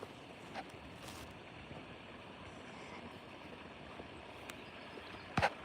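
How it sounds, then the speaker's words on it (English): Floodwater on a farm rushes like small rapids, a steady, dense wash of churning water running throughout at moderate level, with a few faint clicks and a short knock near the end. "So I've got my own little rapids here."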